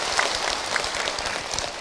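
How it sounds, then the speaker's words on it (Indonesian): A religious lecture audience claps together, a dense, even patter of many hands heard from nearby, sustained steadily through the short stretch without a break. "Tepuk tangan atuh buat kita semua."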